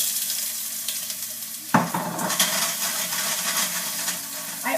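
Vegetable slices sautéing in a hot pan with kosher salt, sizzling steadily and close, with a sharp clatter of stirring partway through and continued frying hiss afterward.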